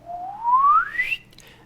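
A lone whistle glides smoothly upward from a low note to a high one, clear and close, then stops abruptly.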